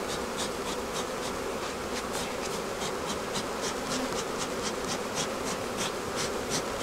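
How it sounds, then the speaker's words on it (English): A dense, steady swarm of bees buzzes loudly and close around a hive, droning continuously with wings zipping past. "These bees are mean."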